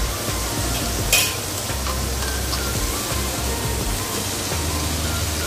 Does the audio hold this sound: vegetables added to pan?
yes